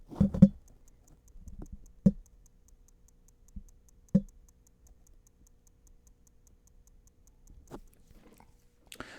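Faint, regular ticking from a 2018 Samsung Galaxy Watch LTE imitating a real second hand, close by and quiet, broken up by a few louder handling knocks and clicks.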